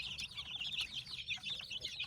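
Domestic village chickens, young birds still growing, cluck and chirp softly in a pen, a busy run of short overlapping calls at a low, steady level.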